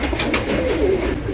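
Close, soft cooing from a female pigeon in a breeding loft: a low, rolling call that rises and falls steadily, with no talk over it.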